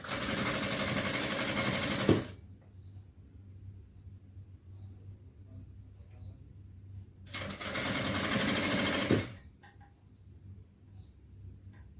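A sewing machine stitches through folded cloth in a tailoring lesson, running in two loud, steady bursts of about two seconds each, separated by a quieter pause with faint handling noise.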